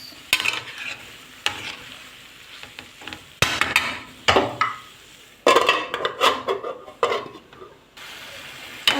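Chopped tomatoes being stirred with potatoes in a pan for potato shakshuka, with irregular bursts of spoon scraping and clattering against the pan over a soft sizzle, separated by short quiet gaps.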